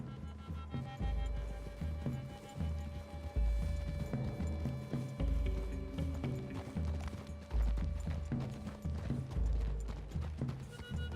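Horse hooves clip-clop steadily in Red Dead Redemption 2, several horses walking at an even rhythm close by, with background music and no talk over them.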